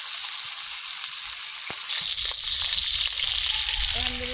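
Pangas fish frying in hot oil gives a loud, continuous bright sizzle that shifts and crackles as the pan is disturbed, with a brief voice near the end.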